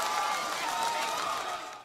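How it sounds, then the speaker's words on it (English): A crowd at a 2011 high school baseball state championship game roars and cheers in a dense, sustained wash of noise that fades slightly at the end. "Listen to this crowd."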